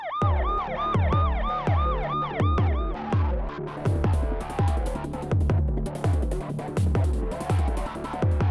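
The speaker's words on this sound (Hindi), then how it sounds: "एम्बुलेंस?" An ambulance siren wails in quick rising sweeps for the first few seconds over a heavy, steady pounding beat, then fades out while the thumping rhythm carries on alone.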